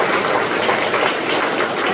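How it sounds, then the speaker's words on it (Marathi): A congregation at a church service claps their hands in a dense, continuous roar of applause that stays loud and steady throughout, with no voices standing out. "आपण टाळ्या वाजवत"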